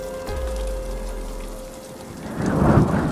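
Rain falls steadily while a deep thunder rumble rolls in and swells loudly toward the end, near and heavy, with no voices.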